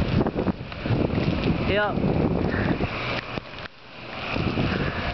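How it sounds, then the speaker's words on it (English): Strong wind buffets the microphone on a rainy night street, a constant rough roar with gusty swells and a brief lull; a voice speaks briefly. "It's really windy. It's really heavy."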